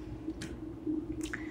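Hands are wetted under running water and worked with soap, producing soft wet squishes and small drips close by over a low, steady water hiss.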